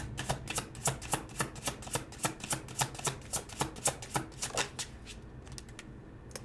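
Oracle cards being shuffled by hand, a quick run of crisp riffling flutters in steady rhythm that fades near the end, close and clear with no talk.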